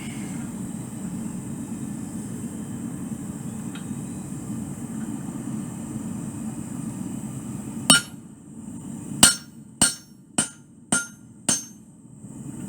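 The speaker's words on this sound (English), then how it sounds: "A little heavier hammer for cutting." Heavier hammer striking to cut hot steel at a forge, six sharp ringing blows, the first two spaced apart and then a steady run of evenly paced hits, loud and close over a low background roar.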